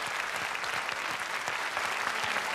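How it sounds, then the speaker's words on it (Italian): A theatre audience at the Sanremo festival applauds artists receiving a critics' award, with continuous, full applause filling the hall at an even level throughout. "un applauso a questi straordinari artisti che hanno meritato il premio della"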